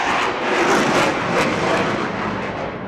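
Roaring jet engines of an RAF Eurofighter Typhoon with twin Eurojet engines at an airshow display, a loud, broad sustained rumble and roar close by without a break, no voices.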